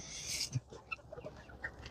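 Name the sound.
chickens clucking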